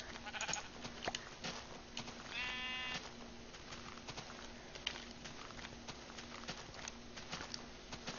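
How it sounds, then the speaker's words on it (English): Sheep in a Minecraft world bleat a few times in short wavering calls, with clip-clop-like footsteps and light game ambience around them. "I'm like, I hear you, pink sheep."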